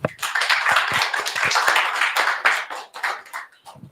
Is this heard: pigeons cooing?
no